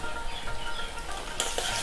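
A spoonful of garlic paste sizzles in a frying pan with chillies and onions, stirred briefly, a close hiss with soft utensil scrapes and a brighter burst near the end, no voices.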